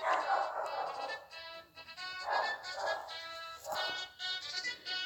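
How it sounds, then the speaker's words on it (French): A dog barks indoors in a few separate bursts, moderately loud and somewhat mid-range, set against a steady harmonic background from a game being played nearby. "Il y a mon chien qui aboie."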